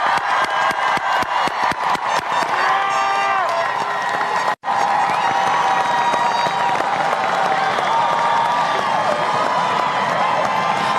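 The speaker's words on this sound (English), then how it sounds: "Let's have a round of applause for our graduates." Crowd at the Ridgeland High School Class of 2021 graduation ceremony applauding and cheering for the graduates, a dense, sustained wash of clapping and shouts that fills the room with a brief dropout midway.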